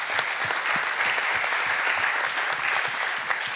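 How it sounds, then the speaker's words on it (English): An audience at a big data forum plenary session applauds the panelists, dense sustained clapping from many hands at full strength throughout, with no voices over it. "Big applause for all the panelists"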